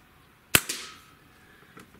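A single sharp shot from a Diana Airbug CO2 pistol, one loud crack followed by a brief ringing tail and a faint second tap afterward, with no talking.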